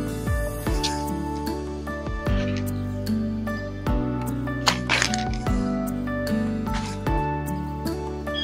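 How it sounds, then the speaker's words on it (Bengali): Flat bean pods are snapped off the plant by hand, giving a few crisp cracks and rustles spaced several seconds apart under steady background music. "তো গাছ থেকে আমি শিম তুলে নেব।"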